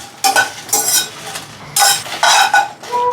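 Byadgi chillies dry-roasting in a pan as they are stirred, with loud rhythmic scraping and rustling strokes repeating every half second or so over a light sizzle, close and without any voice.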